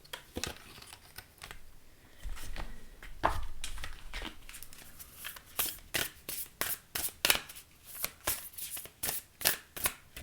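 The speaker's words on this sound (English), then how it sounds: "All right, let's pull you an oracle card." Oracle cards being shuffled and drawn for a Leo weekly reading, a run of crisp, close riffling snaps and flutters that grow into a quick rhythmic series of sharp card flicks, with no speech.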